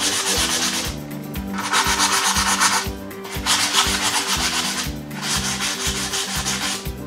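Sanding scuffs the finish off a wooden bench in random spots, a loud close rasping in long bursts of back-and-forth strokes with brief pauses, over a rhythmic music bed.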